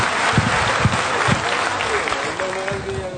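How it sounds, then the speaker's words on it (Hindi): A crowd at a Vestige business gathering gives loud, sustained applause to welcome a guest, with a few sharp individual claps standing out and a voice speaking near the end. "मिस्टर गौतम वाली के लिए एक जोरदार ताली से स्वागत किया जाए।"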